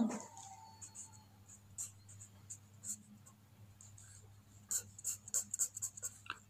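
Chalk or pen writing during a linear algebra lecture on Sylvester's theorem, with soft scratchy strokes scattered through the clip and a quick burst of sharper taps near the end, no speech.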